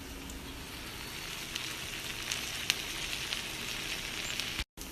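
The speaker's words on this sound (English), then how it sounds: "I'm going to let the rice cook down for a little bit longer so it absorbs all those flavors" Rice simmering in vegetable broth and soy sauce, giving a steady soft bubbling hiss with faint occasional pops, broken by a brief dropout near the end.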